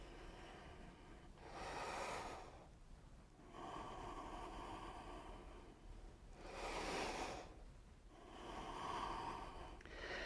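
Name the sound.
slow nasal breathing during stretch band exercise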